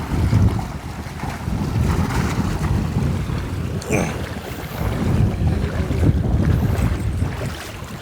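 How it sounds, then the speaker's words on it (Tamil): Strong seaside wind roars across the microphone, steady and close, with waves washing faintly beneath it throughout. "சூப்பராக காற்று அடிக்குது"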